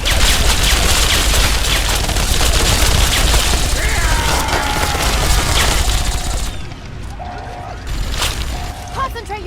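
A Fallout 3 battle rages with dense, rapid gunfire and crashing impacts, loud and continuous before thinning out near the end, while voices shout over the fighting.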